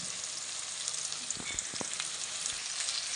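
Chopped onions and green chillies frying in oil for a fish curry, a bright, even hiss of sizzling with occasional small pops and a faint stirring scrape, close up and continuous.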